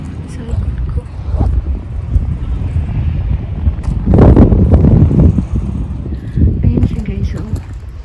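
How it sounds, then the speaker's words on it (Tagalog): Strong wind buffets the microphone at the hilltop Valkenburg castle ruin in Limburg, a steady low roar that swells into a heavy gust midway and eases off again, with a person talking over it. "Grabe ang hangin."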